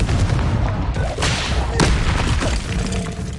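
Confringo blasting spell explosions in Hogwarts Legacy, a loud series of booming, crashing blasts with sharp bursts around the middle, dense and close with no speech.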